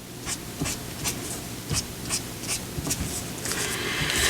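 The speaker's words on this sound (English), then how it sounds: "Just drawing lines on this one." A pen or pencil drawing lines on watercolor paper, short scratchy strokes repeating at a quick, uneven rhythm, close and soft against a faint background hiss.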